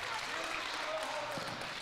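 A crowd at a girls basketball game lets out a loud, sustained, broad groan that fills the gym. A commentator talks over it.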